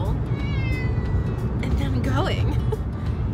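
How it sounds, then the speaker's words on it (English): Inside a moving car, a cat lets out a drawn-out, wavering meow over the steady rumble of the road, with a person talking nearby. "Putting a cat in a moving vehicle"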